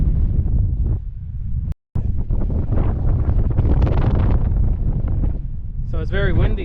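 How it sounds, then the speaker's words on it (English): Strong gusty wind at Craters of the Moon National Monument, Idaho, buffets the microphone in a loud, rough roar, with a brief dropout partway through and talk mixed in. "So it's very windy here"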